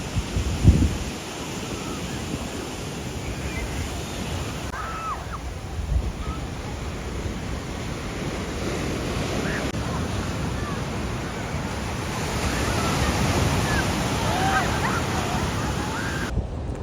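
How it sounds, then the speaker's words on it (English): Surf rolls onto a beach in a continuous, noisy rumble mixed with wind buffeting the microphone, with a brief heavy bump near the start and the wash swelling slightly toward the end. "It's such a beautiful beach, so wavy that you don't get in Adelaide."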